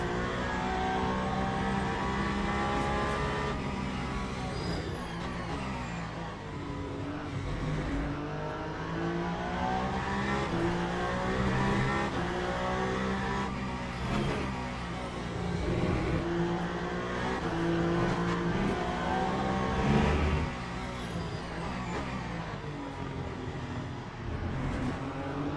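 Race cars engaged in an overtake on track in the simulator Le Mans Ultimate during a WEC race at Bahrain, with continuous layered engine whine rising and falling through gear changes and acceleration, loud and sustained, without talk.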